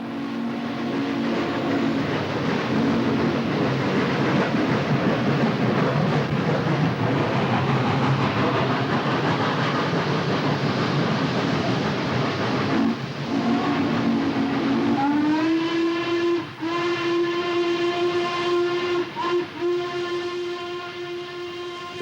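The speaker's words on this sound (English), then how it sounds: "The two Norfolk and Western showpieces then steamed majestically together up to Christiansburg Hill" Two Norfolk and Western steam locomotives run together on the climb up Christiansburg Hill, giving a steady, loud chuffing roar that later gives way to a long, sustained steam whistle with a shift in pitch, with no voices.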